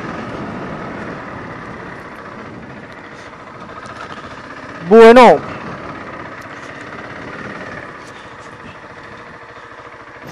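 A motorcycle rides off-road through a flooded stretch, its engine and splashing water forming a steady broadband roar for the whole stretch, with a single short spoken word cutting in midway.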